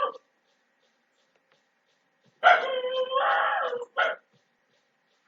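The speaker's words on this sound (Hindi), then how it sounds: "फ्रेंड ये कुत्ते भी बिना मतलब का आवाज देते रहते हैं" Dogs outside give a drawn-out wailing howl and a short yelp after a quiet stretch, moderately loud with a brief cry at the start and end.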